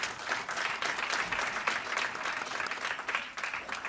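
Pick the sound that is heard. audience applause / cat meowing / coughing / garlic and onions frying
audience applause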